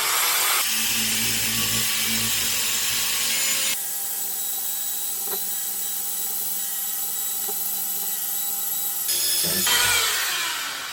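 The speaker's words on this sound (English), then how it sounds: "Now we're going to use this eraser wheel, which you can pick up at any hardware store." A 3M eraser wheel on a power drill removing badge adhesive from a 2018 Toyota Tacoma, a continuous rubbing whine that changes pitch and pressure partway through and then returns to the rougher sound.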